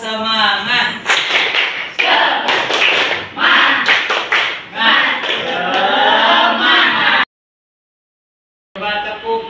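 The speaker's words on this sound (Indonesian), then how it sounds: "Coba tepuk semangat." An Indonesian classroom performs a rhythmic clapping chant, with bursts of sharp claps in patterned groups mixed with voices, close and loud, then a short silence before a bit more sound.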